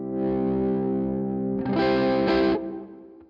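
A Valiant electric guitar played through an overdrive pedal rings out in sustained, distorted chords, swelling louder midway before fading into a decaying tail.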